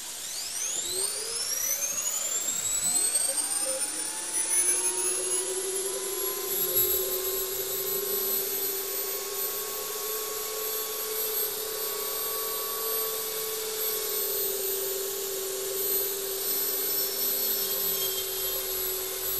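A new metal-cutting shop machine runs steadily through a cut, giving a continuous whine with a bright high hiss and pitch sweeps that rise and fall throughout, close and fairly loud, with no voices.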